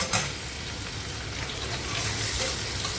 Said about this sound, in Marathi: आपल्याला चांगला त्याच्यामध्ये फ्राय करून घ्यायचा आहे